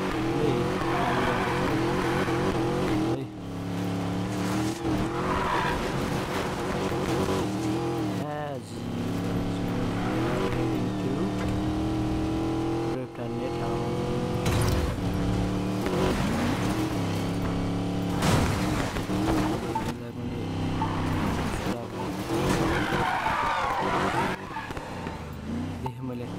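A car drifting in the racing game Need for Speed Payback, engine revving and falling with long tire squeals, loud and close, with a voice speaking over parts of the action.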